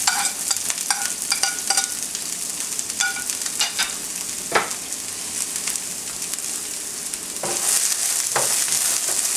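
Green beans stirred in a hot pan for a Kerala beans thoran, a steady close sizzle broken by repeated scraping and clinking strokes of the spoon against the pan, with no talk.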